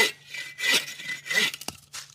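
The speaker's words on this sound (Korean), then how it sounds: "떨어지는 부분에 톱을 대게 되면 앞쪽의 무게에 의해서 톱질한 자리는 자연스럽게 벌어지고" A hand saw cuts through wood up close with a few rhythmic back-and-forth rasping strokes and short pauses between them.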